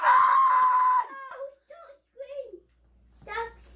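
A child screams loudly in the background for about a second, then trails off into a few whimpering, moaning cries and a final short yell, with quiet gaps between them.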